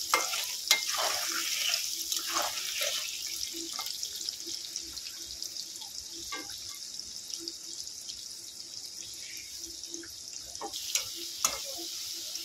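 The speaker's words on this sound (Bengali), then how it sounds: "লবণ দিয়ে আলুটাকে ভেজে নেব।" Potato pieces frying in salted oil in a pan, a steady soft sizzle running throughout with occasional clinks and scrapes of stirring, fairly quiet and close.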